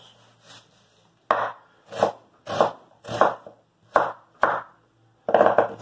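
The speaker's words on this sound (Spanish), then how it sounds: "Cuando hacemos un corte de cebolla más grande, es el mismo procedimiento, solo que los cortes están más separados entre ellos." A knife chops onion on a cutting board in a cooking demonstration, making seven distinct, evenly spaced chopping thuds, close and moderately loud, with quiet pauses between strokes.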